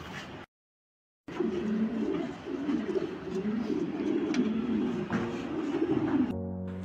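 Racing pigeons coo continuously in a loft in Bangladesh, a dense low chorus of several birds close by. The sound cuts out briefly near the start and then resumes.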